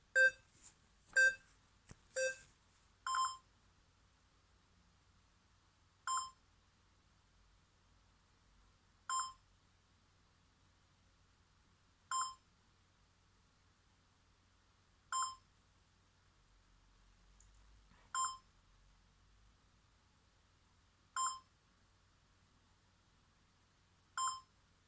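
A countdown timer for a maths exercise beeps in short, sharp bursts, a quick cluster at first and then single beeps spaced about three seconds apart, clear against near silence.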